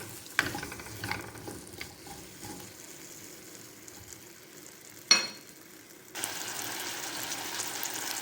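Finely chopped potatoes in oil over a normal flame are stirred with scraping clinks and taps, then a loud, steady sizzle starts near the end.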